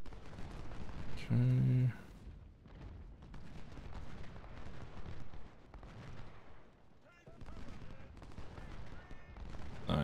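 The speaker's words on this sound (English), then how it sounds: "Vaughn just had a great volley there" A musket volley in the Civil War strategy game Ultimate General crackles as layered rolling gunfire with distant booms, continuous and rumbling throughout, while someone speaks a brief word over it early on.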